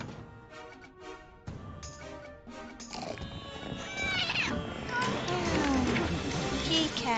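A pet cat in the Pirate101 video game meows several times, the cries growing louder and more drawn out over game music and ambience, with a person talking quietly at the start.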